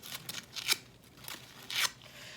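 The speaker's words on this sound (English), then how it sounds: "Then we're just going to take our scissors and just curl the tips in." Scissors snip and scrape along crepe paper, curling the tips for a handmade water lily flower, in a few close crisp rasping strokes with no talking.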